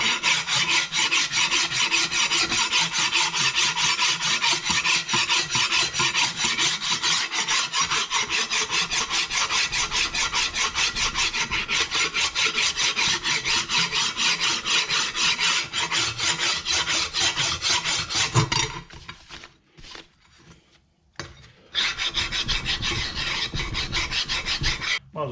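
Sandpaper rubs rust off the ports of a Buick 455 big-block engine, making a continuous harsh rasping scrape close up that runs steadily before briefly stopping and resuming, with no talk.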